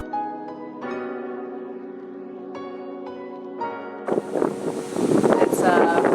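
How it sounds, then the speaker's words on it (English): Gusty wind buffets the microphone outdoors on a windy day out skating, rising into loud rushing noise in the last couple of seconds after people talk. "It's a pretty windy day out here."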